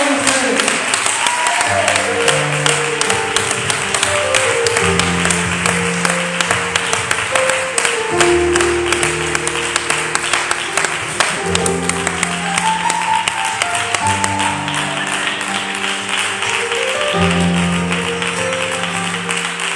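A church congregation applauds steadily and densely after a sermon, under sustained music with low sustained tones, the clapping loud and continuous for the whole stretch.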